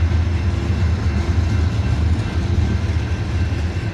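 Loaded CSX coal train with GE Evolution locomotives climbing Parrs Ridge, one unit offline: a steady, heavy low engine drone rumbling continuously at close range with no pauses.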